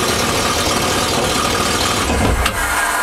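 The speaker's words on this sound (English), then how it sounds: "I'm going to go ahead and start the engine here" A jetski (FX SHO) engine starts and idles steadily up close, a continuous rumbling drone with a brief higher whine near the end.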